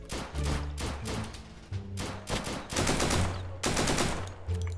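Gunfire in the online survival shooter game Deadside: several bursts of sharp, loud shots in quick succession, some rapid automatic fire, separated by short gaps of quieter game sound.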